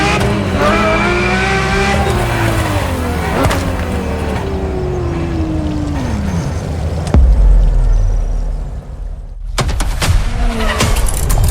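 A Ferrari supercar in The Crew Motorfest revs loudly up and down through the gears, engine pitch rising and sliding away, with a brief burst of tire noise and clunks near the end.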